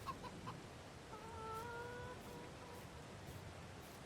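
Faint clucking from a few chickens in Farming Simulator 22, with soft short calls scattered over a quiet, steady background murmur.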